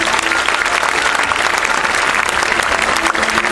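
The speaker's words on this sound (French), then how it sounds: "Applaudissements pour Juliette." An audience at a 2015 welcome evening awards event applauds steadily and loudly, a dense continuous clapping from a crowd that holds for several seconds.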